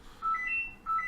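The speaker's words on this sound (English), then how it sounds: "Sorry for that phone going off." A phone going off during a card game, heard as a few short electronic beeping tones at steady pitch, moderately loud and alone without speech.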